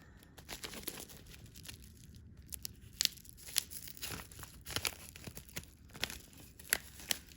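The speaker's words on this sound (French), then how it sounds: "j'ai reçu mes 2 derniers colis, on va les ouvrir ensemble" Parcels of Vinted-ordered Pokémon cards are torn open up close, with quiet bursts of ripping paper and crinkling packaging in uneven spurts.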